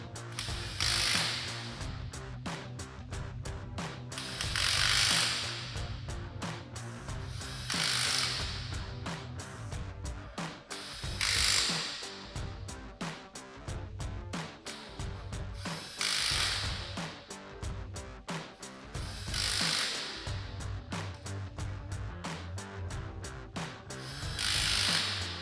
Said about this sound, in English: we'll go ahead and run them down tight with our impact here, again with our 3/4 inch socket